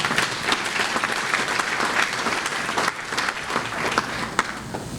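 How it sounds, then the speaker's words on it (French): Audience applause at a ceremony honouring decades of work for women's emancipation, held by Haiti's prime minister; dense, steady clapping from a crowd fills the whole stretch with no talk over it. "Pédrica, ton courage demande un applaudissement."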